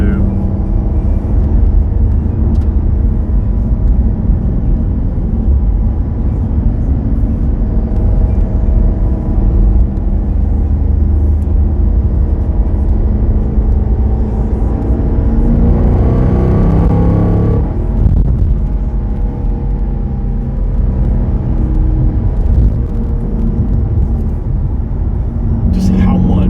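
A Chevrolet SS climbs a hill on a four-lane road, its engine a steady low rumble heard from inside the cabin, continuous and fairly loud with road noise, a brief swell partway through.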